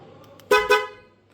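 A car horn wired to the lock and unlock function gives two quick, loud toots close by, the second fading out over about half a second.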